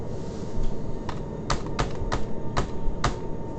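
Computer keyboard keys struck while flying a 747 in a flight simulator, several sharp separate clicks spaced irregularly over a low room hum, close and clear.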